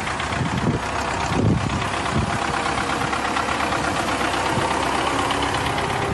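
A tractor idles or runs in a snowy residential yard in Kazan, a steady rumbling, knocking engine drone that stays loud and continuous throughout, with no voices.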